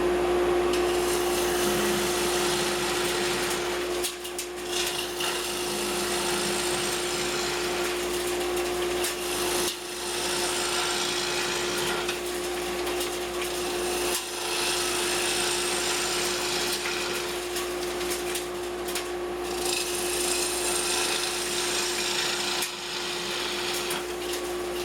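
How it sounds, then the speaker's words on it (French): A log of wood full of holes is hollowed on a Record Power Coronet Herald wood lathe, with a constant motor hum and a continuous loud cutting hiss. The tool pauses briefly every few seconds. "je creuse cette bûche et on va regarder ce que ça donne"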